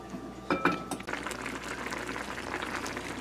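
Water boiling in a pot for strawberry tea, a steady bubbling hiss with a few louder pops near the start, close and continuous throughout.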